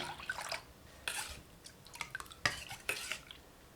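A cup of water is added to rava dosa batter and stirred, giving intermittent close splashes and wet spoon-against-bowl clinks in short bursts.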